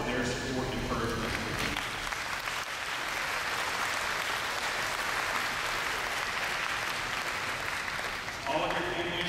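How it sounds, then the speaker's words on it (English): An audience at a high school graduation in Jonesboro, Arkansas applauds in a steady, sustained wash of clapping that fills a large hall, with a voice speaking briefly at the start and again at the end. "Please give all your family, friends, and teachers a round of applause for their support and encouragement."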